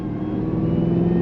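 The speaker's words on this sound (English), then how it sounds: "Blower is so loud on this thing, I love it." The supercharger blower on a Stage 4 modified Cadillac CTS-V engine gives a thin whine over a steady, loud, close-up engine drone, with no talking.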